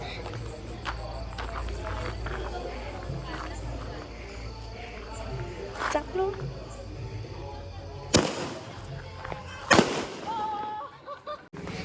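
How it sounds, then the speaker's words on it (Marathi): Diwali firecrackers go off with sharp, loud bangs, two big cracks near the end following smaller pops and crackles, while people talk in the background over a low outdoor hum. "चला आम्ही आता फटाके फोडू"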